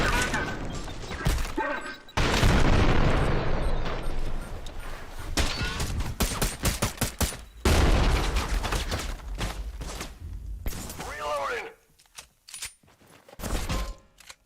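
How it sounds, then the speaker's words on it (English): Explosions and rapid gunfire from the shooter game Trepang 2, in dense, loud bursts with crashing impacts and brief lulls, with a player talking at moments. "they're throwing grenades like crazy."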